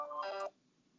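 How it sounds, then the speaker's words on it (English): A work instant messenger alert chimes from an office desk phone, a short bright two-tone electronic beep lasting under half a second, fairly quiet and alone. "that was my instant messenger for work. It's still logged in. It's connected to my desk phone at the office."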